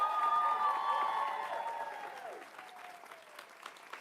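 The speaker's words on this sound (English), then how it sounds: "Give them another round of applause" Applause greets the semifinal teams at the Honda Campus All-Star Challenge National Championship tournament, a broad crowd clatter over a fading tonal ring, starting full and gradually tapering off.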